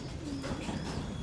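Pigeons kept for high-flying sport give a brief, soft cooing call, faint and low amid a noisy background.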